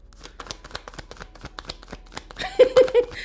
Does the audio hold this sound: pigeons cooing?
no